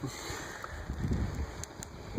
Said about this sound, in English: it is pretty windy out here